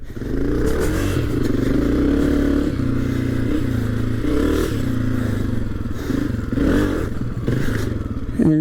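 A 2022 Honda CRF250F dirt bike engine running continuously while being ridden, loud and close with a droning, rising and falling rev and clattering, scraping chassis noise throughout, no speech.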